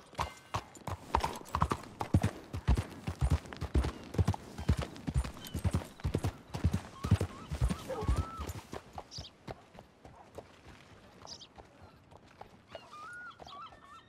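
Hooves of a horse in Red Dead Redemption 2 clip-clop in a steady, close walking rhythm that fades out midway, followed by quieter ambience with faint bird calls.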